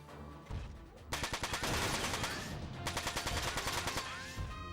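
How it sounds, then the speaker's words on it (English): Rapid machine gun bursts from a mech's weapon in Front Mission 4, loud and close, with two long stretches of fast rhythmic fire broken by a brief pause. "Switch to our machine gun."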